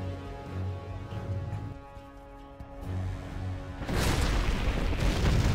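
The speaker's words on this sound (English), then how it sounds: "Artillery coming in for Marakar, probably going to be on the strat" Artillery shells exploding in a real-time strategy game, a heavy rumbling boom swelling over a humming game backdrop, with a burst of dense crashing impacts in the final seconds and no voices.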